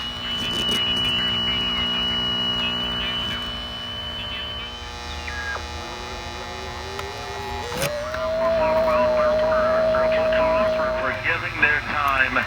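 A repaired 1932 Westminster Detrola tube radio plays through steady mains hum, with drifting whistles and tones as it tunes, and someone talks over it.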